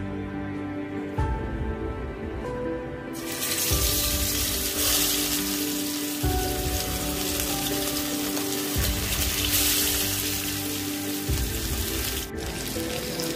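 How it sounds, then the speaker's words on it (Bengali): A hilsa fish tail drops into hot mustard oil in a kadai on a stove, setting off a sudden loud, steady sizzle a few seconds in that continues unbroken over faint, regular low thumps. "তেল গরম হয়ে গেছে, এখন দিয়ে দিব ইলিশ মাছের লেজ।"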